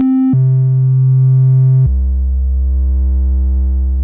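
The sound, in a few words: Roland System-8 synthesizer oscillator triangle wave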